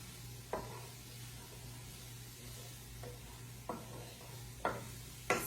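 Vegetables sauté quietly in a pan with a low, steady sizzle, punctuated by a few sharp spoon scrapes and taps spaced seconds apart.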